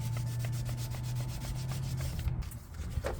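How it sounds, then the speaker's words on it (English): Wet sanding of rough primer on a car body during a DIY restoration paint job, using 1000 grit sandpaper: steady repeated rubbing strokes, close and fairly loud, with no talking. "we're just gonna wet sand some of these really rough areas"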